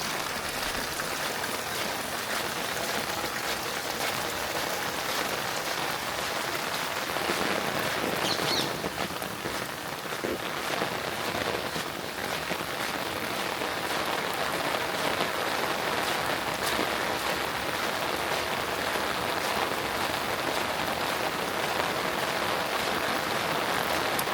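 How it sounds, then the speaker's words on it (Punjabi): Monsoon rain falls steadily on a Punjab village, a dense, even hiss of drops on surfaces continuing without pause, with faint birds in the background. "ਹੌਲੀ ਹੌਲੀ ਘਟ ਰਿਹਾ ਮੀਂਹ ਹੁਣ"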